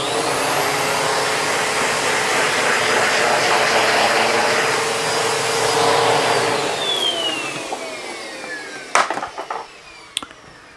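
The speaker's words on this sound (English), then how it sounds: "I'm going to take my vacuum and suck my fretboard." A loud vacuum cleaner sucks grime off a guitar fretboard during fret levelling, droning steadily close by, its whine shifting in pitch, then winds down, followed by a few knocks and clicks.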